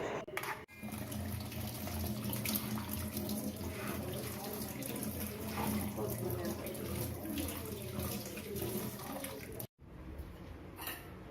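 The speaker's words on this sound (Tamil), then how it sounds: "அதை வந்து ரன்னிங் வாட்டரில் வாஷ் பண்ணணும்" Running tap water steadily pours over sago pearls being rinsed at a kitchen sink, a continuous close splashing stream that cuts off abruptly near the end.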